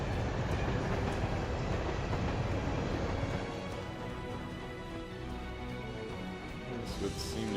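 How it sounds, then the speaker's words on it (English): A train rolls along in the video game Trails to Azure, a steady loud rumble with rattling that eases slightly partway through, with background voices faintly mixed in. "Hey, train."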